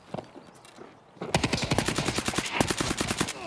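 Sustained automatic gunfire erupts in Escape from Tarkov, a rapid, loud burst of closely spaced shots running for a couple of seconds after a few quieter footsteps and faint sounds.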